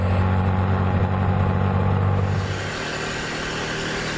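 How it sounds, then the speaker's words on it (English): A Buell EBR 1190RX motorcycle decelerates under engine braking, its chain idler whirring against the drive chain with a loud, steady mechanical drone and high whine that drops off midway as the engine note fades. "That's a chain idler taking the slack out of the drive chain under engine braking."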